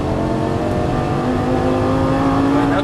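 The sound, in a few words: Lamborghini Gallardo LP550-2 engine accelerating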